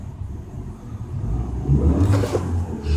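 A Chevy Aveo engine hums at a steady idle, then swells as it revs briefly, heard from inside the car with some road-like rumble.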